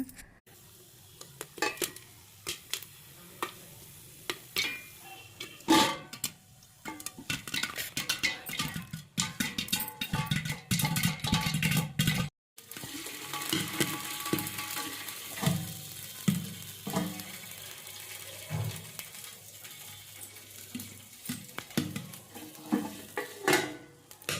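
Popcorn cooks in a pot while being stirred, with scraping of a utensil against metal, clattering, and scattered popping sounds over a continuous sizzle.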